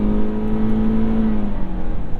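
Cabin drone of a 2022 Toyota Corolla Cross driving, a loud, steady engine and road hum with a sustained whining tone, heard from inside without talking.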